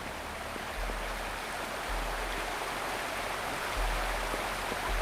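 Waterfall in the Wuthering Waves video game, a steady broadband rush of falling water, moderately loud and unbroken, with a low rumble swelling at times and no talk.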